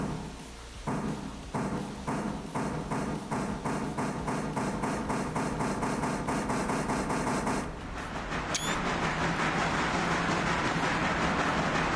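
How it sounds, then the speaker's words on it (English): Passenger train departing in a video game, a regular series of rhythmic clacks of wheels over rail joints, then a shift to a denser rolling roar with a brief high whistle-like tone near the end. "passenger train is departing"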